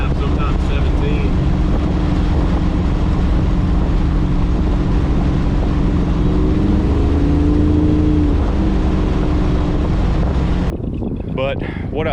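A car with a 318 V8 swapped in for a 360 cruises at 3,000 RPM, its steady low engine drone and wind noise continuing throughout, with the note swelling slightly as throttle is added.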